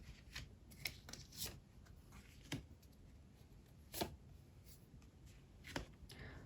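Tarot cards being shuffled and drawn, heard as close, quiet papery riffles and sharp flicks recurring every second or so over a soft background, with a voice speaking at moments.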